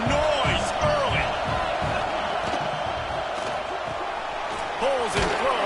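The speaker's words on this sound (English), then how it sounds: "This crowd bringing the energy and noise early." A packed football stadium crowd at an American football game gives off a loud, steady roar, with scattered cheers and whistles rising above the continuous din.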